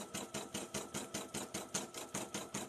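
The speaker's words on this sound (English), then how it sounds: "instead of having to stop your machine before it starts stitching the next thing" An embroidery sewing machine stitching steadily, its needle striking in a fast, even rhythm of about six beats per second, close and continuous with no voices.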